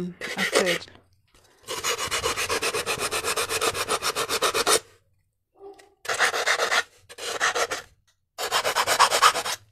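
Rapid rhythmic sanding strokes on a hard sphere come in long bursts separated by short silences, loud and close, with a steady scratchy back-and-forth texture.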